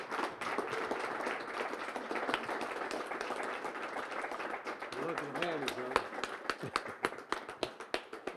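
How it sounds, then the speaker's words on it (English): An audience applauds Hall of Fame inductees at a horseshoe pitching event, with scattered claps rising into a burst of clapping near the end under ongoing talk. "give them a round of applause"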